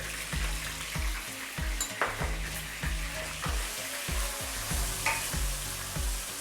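Chopped garlic sizzles and crackles in hot oil while a utensil stirs and scrapes the pan in a steady rhythm.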